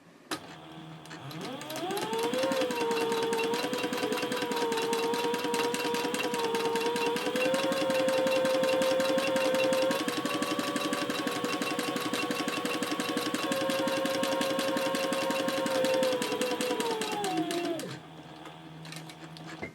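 A sewing machine stitches around a box outline on a handbag panel at a short stitch length. It runs as a loud, steady, continuous mechanical hum for about sixteen seconds, then stops, and it is heard alone.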